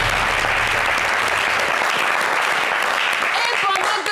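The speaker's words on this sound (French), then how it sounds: "On applaudit pour Fatima Koné." A studio audience on a TV entertainment show claps loudly and continuously for a contestant, a thick, even wash of applause that holds steady throughout, with faint musical tones entering near the end.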